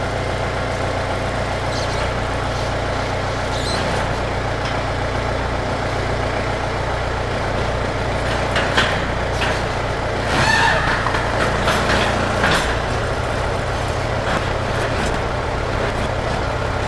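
A big tractor's engine runs steadily at idle, a loud continuous low rumble with a few faint clanks and knocks on top, and no talk.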